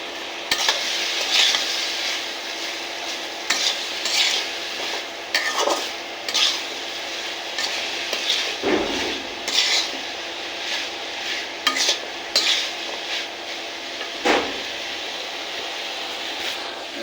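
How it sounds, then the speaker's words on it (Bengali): Curry is stirred in a frying pan over a constant hissing sizzle, with a ladle scraping and clinking against the metal in an uneven rhythm, close and fairly loud. "এখন এইগুলো আবার নাড়া দেব।"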